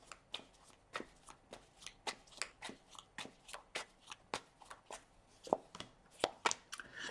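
Tarot cards being shuffled, a steady run of crisp, close riffling snaps and flutters repeating in quick bursts for several seconds with no talking.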